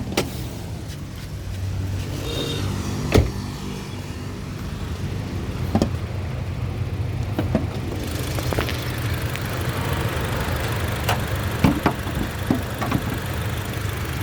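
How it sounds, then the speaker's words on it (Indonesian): A Honda CR-V with a 2.4 DOHC i-VTEC engine idles smoothly and quietly, a low, even hum running throughout, punctuated by a few faint clicks and knocks nearby. "biar nanti teman-teman mendengarkan suara dari mesinnya"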